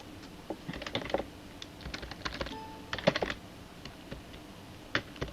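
Irregular bursts of quick key clicks from a computer keyboard, typed close by with short pauses between runs.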